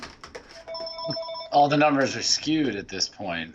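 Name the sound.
telephone ringing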